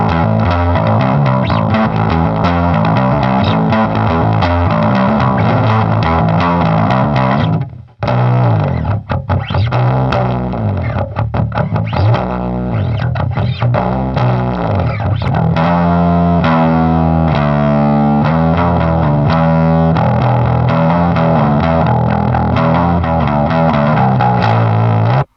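A bass guitar runs through a Boss PW-2 Power Driver pedal with gritty overdrive and boosted mids, playing loud continuous riffs with a brief dropout near the start.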